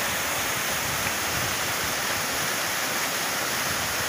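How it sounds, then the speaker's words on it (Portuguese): Cachoeira do Grito waterfall and its many rapids in Triunfo, Pernambuco, pour in a steady loud roar of rushing water that fills the whole span with no break. "São diversas corredeiras d'água."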